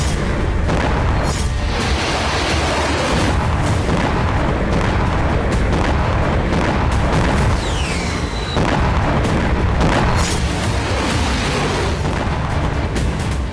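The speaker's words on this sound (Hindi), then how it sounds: "क्रीमिया में यूक्रेन ने एक के बाद एक इतने धमाके किए" Explosions in Crimea captured in news footage, a continuous loud roar of booming blasts and rumbling bursts, with a faint whistling sweep partway through.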